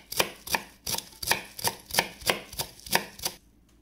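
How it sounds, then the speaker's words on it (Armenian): Spring onion is chopped on a board for a cold potato salad, about eleven sharp, evenly spaced knife strikes in a quick steady rhythm, close and clear with no voices. "մանուշ կտրատում ենք և ավելացնում ենք."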